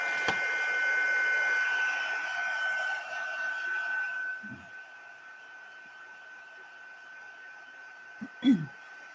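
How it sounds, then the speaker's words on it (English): A heat tool used to heat-set ink for card making blows as a steady whirring hum for about four seconds, then cuts off, leaving quiet with a few soft knocks and handling bumps. "I'm just going to heat set it."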